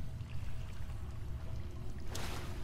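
Flowing water in The Elder Scrolls IV: Oblivion, a soft steady rushing pour with a low rumble beneath, fairly faint and continuous, ending in a brief brighter splash.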